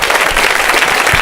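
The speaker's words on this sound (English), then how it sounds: "another round of applause for all these guys" A live comedy podcast audience breaks into loud, dense applause, with many hands clapping close and continuously through the short moment.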